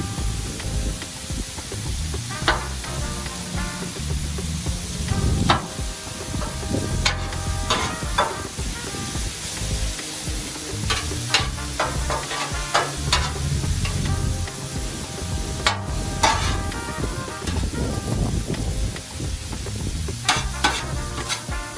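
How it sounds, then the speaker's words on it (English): Vegetables sizzling on a Blackstone griddle while being flipped and mixed, a constant loud fry hiss broken by repeated clicks and scrapes of a spatula on the flat top. "after I flip this over, season and mix it really good"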